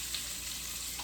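Celery lands in a hot pan for coq au vin and sizzles in a steady, moderate hiss that stays even throughout, with no talking.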